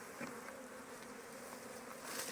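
Honey bees buzz steadily at a beehive during an old beekeeper's hive inspection, a faint, continuous hum.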